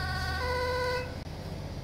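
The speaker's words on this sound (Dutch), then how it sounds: "Het is allemaal niet nodig om tot hier met je sirene aan te gaan rijden." A modded ambulance siren in GTA 5 wails with a loud, steady electronic tone for about a second, then cuts off abruptly, leaving a low engine-like rumble and a brief click.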